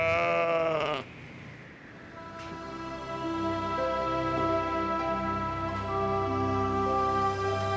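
Several sheep grazing on a dormant volcano bleat loudly in overlapping, drawn-out calls, one sharp cry first, then a steady chorus of wavering bleats.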